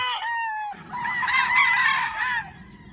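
Roosters crow on a farm raising local stags, one long crow close by fading in and a second loud, drawn-out crow following, with no talk.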